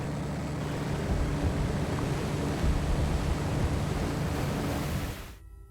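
Strong wind and rough sea batter a snow crab fishing boat in stormy weather, making a loud, continuous broadband rush of surf and gusts that drops away abruptly at the end.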